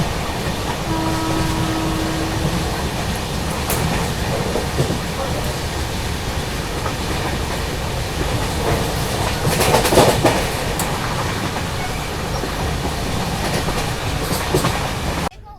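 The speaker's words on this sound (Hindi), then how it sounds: "अब देखो स्पीड अप होनी शुरू हो रही है यहाँ पर अपनी नॉन स्टॉप स्पेशल।" Inside a second AC coach of a Jaipur–Mumbai nonstop special train, a continuous rolling rumble with rhythmic rail clatter builds as the train speeds up, with a brief louder rattle partway through.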